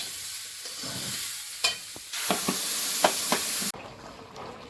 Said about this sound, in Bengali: বেশিক্ষণ আর ভাজবো না একটু নাড়াচাড়া করে জল দিয়ে দেবো